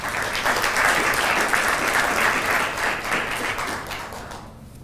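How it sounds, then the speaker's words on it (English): Audience at a consultative meeting on the refugee situation in Kenya, held at Serena in Nairobi, clapping for a guest ambassador; dense, steady applause that swells briefly and then fades toward the end. "Another round of applause for him."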